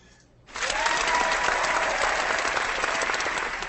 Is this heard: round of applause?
yes